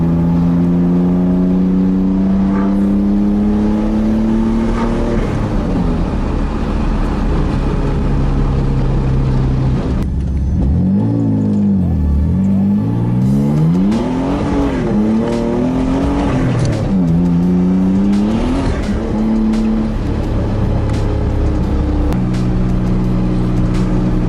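A car out on a drive after a carrier bearing and driveshaft repair revs loud and close, its engine pitch climbing through the gears, dropping and swelling again with steady road noise underneath.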